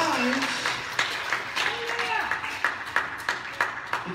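A church congregation clapping hands in a steady rhythmic beat, many hands together, under a preacher's voice.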